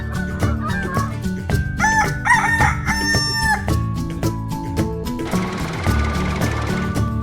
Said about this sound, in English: The two Sarahs are bringing the chickens in.